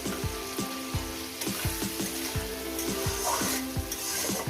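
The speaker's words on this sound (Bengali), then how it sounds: "পেঁয়াজটাকে আমি চার মিনিট ধরে ভেজে নিয়েছি" Onions sizzle steadily in hot oil while being fried for Bengali mutton kosha, with a rapid crackle throughout and a rhythmic series of low clunks from a spatula striking the pan, close and alone.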